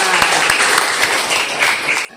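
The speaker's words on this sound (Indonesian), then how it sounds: "tepuk tangan semuanya" A classroom of students applauding during an Islamic studies lesson, loud, dense clapping that holds steady for about two seconds and then stops abruptly.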